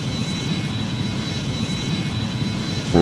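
An airplane comes in to land, its engine roar loud, steady and unbroken throughout, with a short tonal sound rising over it at the very end.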